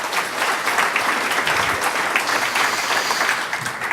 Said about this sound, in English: So please, round of applause for Skye Cleary